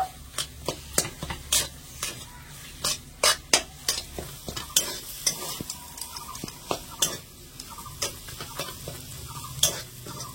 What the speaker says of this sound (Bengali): তো এখানে আমি সবকিছু মশলা দিয়ে খুব সুন্দর করে 2 থেকে 3 মিনিটের মতন আমি একটু ভাজা ভাজা করে নিয়েছি।